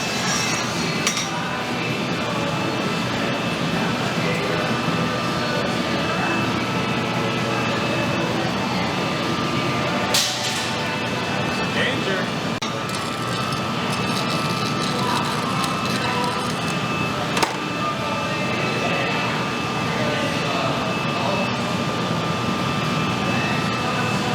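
A glassblowing furnace roars steadily while glass canes for a murrine colour-pattern vase are heated, a loud, unbroken rushing drone throughout with a few faint metallic clinks.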